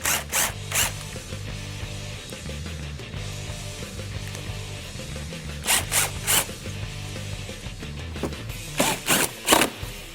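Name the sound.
reinstalling belly pan screws on a Ford Focus ST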